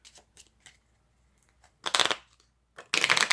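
A deck of cards gets a ripple shuffle: a few soft riffling bursts, then two louder crisp flurries of cards cascading together, close and quiet, with no talking.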